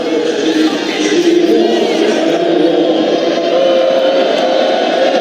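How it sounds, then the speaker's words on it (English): A restless basketball arena crowd at a Kansas vs Baylor college game chants in unison, a steady dense roar of many voices filling the space without letup. "now refs you suck is the chant"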